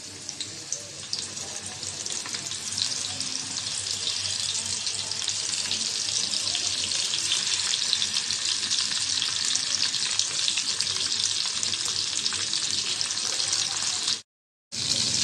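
Marinated surma fish frying in a pan, a steady loud sizzle and crackle of hot oil that holds continuously before a brief gap near the end.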